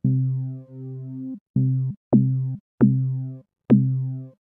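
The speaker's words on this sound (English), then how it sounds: "I just don't find the sound of this low pass filter for kind of classic virtual analog type sounds very satisfying" A Reason Malstrom software synth plays low, buzzy virtual-analog notes through a low-pass filter with high resonance, a series of held tones where sharp resonant sweeps chirp upward at each note's attack, clean and close with no voices.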